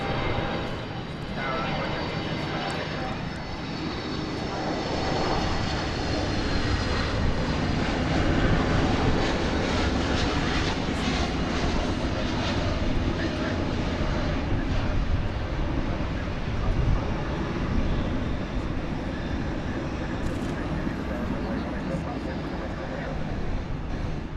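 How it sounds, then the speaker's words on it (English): An American Airlines jet, Flight 1945 from Phoenix, lands at DFW Airport at night with a sustained, broad engine roar that swells and fades slightly, while a person talks over it. "What you just witnessed was American Flight 1945"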